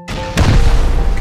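A rocket explodes in the survival video game Rust: one sudden, heavy boom that bursts in and leaves a rumbling tail for about a second.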